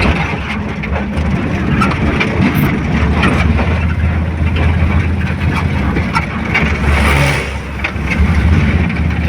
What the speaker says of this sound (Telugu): చూశారు కదా ముందు ట్రాక్టర్ ఎలా వచ్చిందో